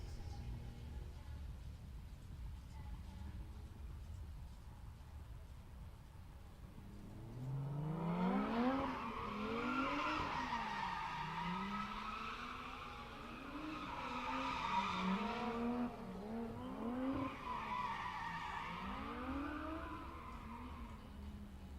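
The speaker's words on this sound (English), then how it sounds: "This thing makes some cool turbo noises." A drift car at a drift track, heard from a distance, revs and slides with wailing tire squeal and rising-and-falling engine pitch across several passes after a quieter start, with turbo whooshes mixed in.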